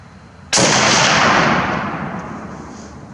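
A single loud shot from a Czech Vz 54 sniper rifle on a shooting range cracks sharply, then rolls away in a long, fading reverberant tail.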